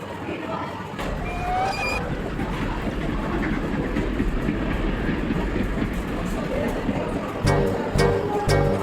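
A train rumbles steadily with continuous rolling noise, joined by a brief whistle-like tone and, toward the end, a few faint voices.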